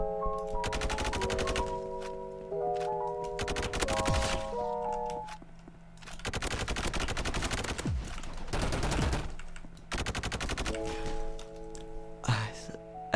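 SKS rifle gunfire in a shooter video game: bursts of rapid, sharp shots at close range come in several clusters, separated by brief gaps and game tones, with a voice talking over parts.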